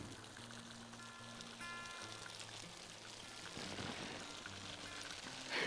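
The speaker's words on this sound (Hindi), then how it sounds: "यहाँ पे जो है कृत्रिम बारिश हो रही है" Sprinkler irrigation sprays artificial rain over a farm field, a steady hiss of falling water drops with a faint low hum underneath throughout.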